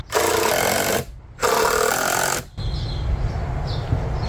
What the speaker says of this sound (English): these cordless drills, real wonders